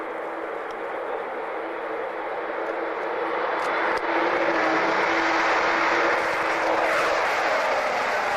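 Jet aircraft engines run at a steady, loud roar with broad rushing noise and a constant low tone, continuous and close throughout with no talking.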